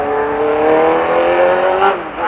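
A motorcycle chasing a Kawasaki Z800 is held at full throttle, a loud, close, sustained engine drone that rises steadily in pitch, then dips briefly and surges again at the end.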